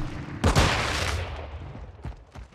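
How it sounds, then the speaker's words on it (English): Gunfire in Call of Duty: Modern Warfare II: a loud close burst of rapid shots with a heavy low-end blast, tailing into a rumbling echo, then a couple of fainter single shots near the end. "I'm taking fire!"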